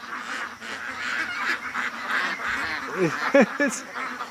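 A flock of ducks quacks and honks in a noisy, overlapping chorus, with a few loud nasal calls standing out near the end.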